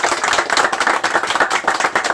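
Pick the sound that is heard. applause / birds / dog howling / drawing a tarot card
applause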